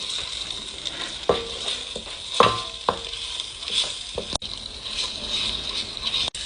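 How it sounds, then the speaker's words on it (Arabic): Onions and tomato paste fry with spices in a pan, giving a steady, moderate sizzle broken by scraping and clinking stirring strokes, with no talking. "وهسه راح نحمس المعجون بعد ما حمسنا البصل."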